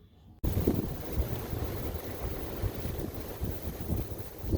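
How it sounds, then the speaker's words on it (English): Strong blizzard wind during winter camping gusts hard against the microphone after a brief quiet start, roaring and buffeting steadily for several seconds with no voices. "It's impossible working with this tarp in the wind."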